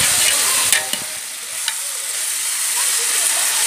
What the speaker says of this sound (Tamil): கறி ஓடாமல் இருக்கணும், அப்போ அது அப்படியே பொறுமையாக கலக்கி